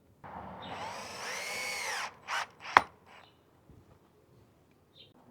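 A power drill drives screws to mount solar spot lights outdoors, whirring in a long rising burst and then two short pulses with a sharp click, fairly close, before birdsong and quiet take over.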